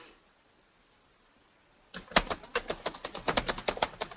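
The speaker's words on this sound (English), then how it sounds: "Because I'm busy typing." Rapid keyboard typing starts after two seconds of near silence, a dense run of sharp, close key clicks in quick, uneven rhythm.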